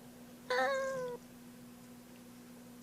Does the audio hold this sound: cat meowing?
yes